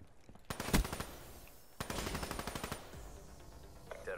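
Video game gunfire comes from an online multiplayer match: one short rapid automatic burst, then a longer run of rapid shots after a pause, set at a moderate distance and fairly quiet.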